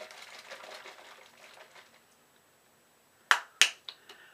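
A bottle of aftershave is shaken after a shave, giving a few sharp sloshing knocks late in the clip, loud and close, after a faint stretch of quieter handling.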